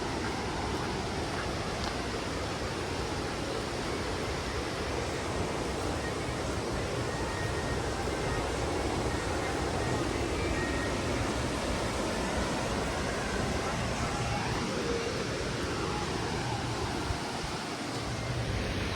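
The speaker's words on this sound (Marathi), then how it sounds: "आपल्या समोर आहे निसर्गाचा अद्भुत चमत्कार, उक्षी रानपाट धबधबा" Ukshi Ranpat waterfall roars in a steady, dense, broadband rush of falling water, holding at a constant loud level throughout with no clear pauses.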